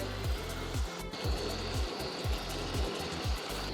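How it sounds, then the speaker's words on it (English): A knife thuds in a steady rhythm through fresh, super ripe tomatoes, chopping them straight into a Greek baked fish sauce, each cut a soft low knock about every half second, close and alone. "I'm just going to chop them right in and they can break up into the sauce."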